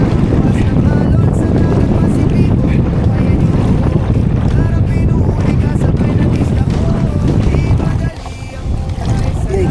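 Strong northeast monsoon wind buffets a small fishing boat at sea about 300 meters offshore, a loud continuous roar of wind and water that drops briefly near the end.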